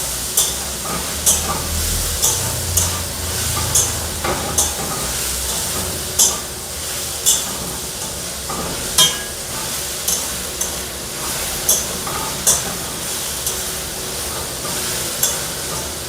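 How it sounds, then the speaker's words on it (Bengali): Crushed ginger and garlic sizzle and fry in a pan for a Bengali green pea and potato ghugni, a steady close hiss with regular stirring clinks and scrapes throughout, no talk. "আমি থেতো করে রাখা আদা আর রসুন দিয়ে দিচ্ছি"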